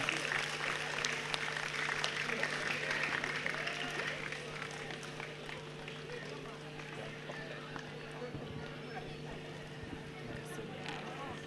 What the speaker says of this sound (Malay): Beri tepukan gemuruh untuk beliau.